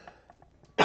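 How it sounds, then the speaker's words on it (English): A man at a computer gives a single sharp, close cough right at the end, after near-silence with a few faint soft sounds. "Man, I still have a pretty bad cough."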